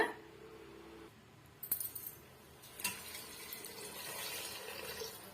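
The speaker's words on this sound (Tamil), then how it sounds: "நான் வந்து ஒரு மூணு டம்ளர் அளவுக்கு நான் தண்ணி சேர்த்துக்கிறேன்" A couple of clinks of a tumbler, then about three tumblers of water pour steadily into a cooking pot, a continuous splashing rush that carries on to the end.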